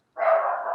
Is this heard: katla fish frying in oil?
no